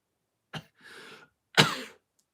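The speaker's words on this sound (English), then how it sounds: "Sorry, my cough is horrendous." A short cough, then a rough throat-clearing rasp, then a second louder cough, each separated by brief silence.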